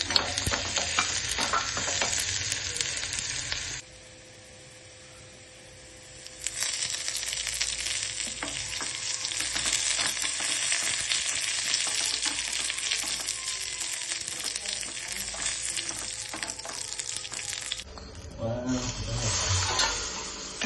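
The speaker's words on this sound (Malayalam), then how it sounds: "കുറച്ച് വെളിച്ചെണ്ണ, ചെറിയ ഉള്ളി അരിഞ്ഞതാണ് കേട്ടോ. അതൊന്നിങ്ങനെ മൂത്ത് വന്നിട്ട്" Chopped shallots frying in hot coconut oil for a tempering, a steady close sizzle with stirring scrapes that cuts out for a couple of seconds midway before resuming.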